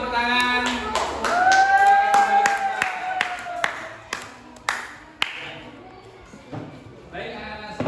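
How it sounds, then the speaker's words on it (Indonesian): Classroom students clap for a group during an Islamic religious education lesson, sharp separate claps that ring out over a teacher's voice. The clapping comes in an uneven rhythm and fades into a few sparse hits. "Terima kasih teman-teman, tepuk tangan."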